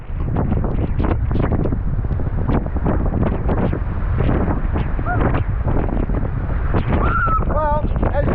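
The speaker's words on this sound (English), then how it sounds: "it's gotten windy" Wind gusts buffet the microphone at a rocky bush waterhole, a loud, continuous rumbling roar that swells and dips, with brief bird calls near the end.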